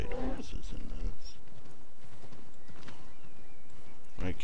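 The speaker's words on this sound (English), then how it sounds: "I don't understand why they allow you to ride horses in this." Horse hooves clip-clopping in the Assassin's Creed III video game, a rapid trotting patter mixed with game noise, louder at the start and end and partly masked by other sounds.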